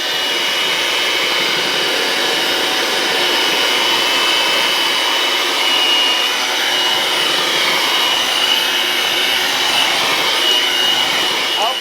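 An electric mixer beats tea cake dough in a bowl, a loud, steady whirring motor hum that continues without pause.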